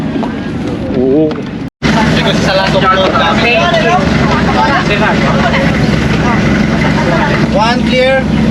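A boat engine drones steadily over rushing wind and water near Coron Island, Philippines, with people talking throughout.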